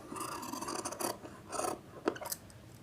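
Scissors snipping through blouse fabric along the armhole curve, a series of close, crisp cuts and rasping slides in an uneven rhythm, with no talking.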